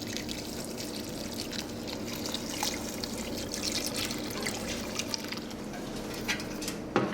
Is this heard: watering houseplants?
yes